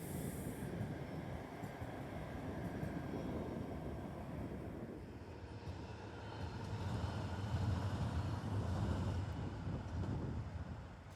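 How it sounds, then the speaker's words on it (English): Trams roll past on a city street in Tallinn, a steady rumble of wheels on rail that swells and fades as cars come and go, heard from a distance with no talking. "Lots of trams came and went,"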